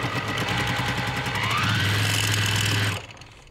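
A home sewing machine runs steadily for about three seconds, chain piecing quilt fabric, its fast rhythmic needle hum close and loud before cutting off abruptly.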